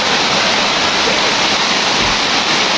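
Heavy rain pours steadily outside in Brahmanbaria, a dense unbroken hiss that fills the whole stretch at close, loud level with no voices.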